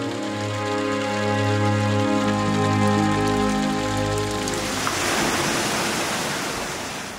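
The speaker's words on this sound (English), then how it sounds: "the sound of running water could be heard." Running water in a palace garden, first heard beneath sustained musical tones, then a steady, full rushing wash of water alone after the music fades.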